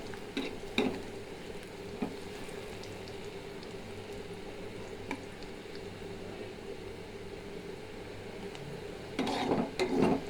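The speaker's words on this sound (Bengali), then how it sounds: "পেঁয়াজ আর রসুন ভালো করে লাল লাল করে বেরেস্তার মতো করে ভেজে দিব" Onions and garlic fry in a pan until browned, a steady low sizzle and bubble with occasional stirring knocks and scrapes, busier stirring near the end.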